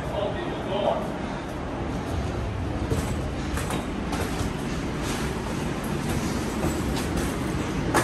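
A Los Angeles Metro Green Line light rail train rumbles steadily along the track, a continuous broad roar with occasional rattles and clicks, close by throughout.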